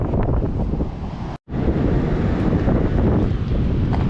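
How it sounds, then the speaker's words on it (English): Strong storm wind on a beach buffets the microphone with a loud, steady roar and low rumble, broken by one brief dropout, with no voices. "A lot of wind."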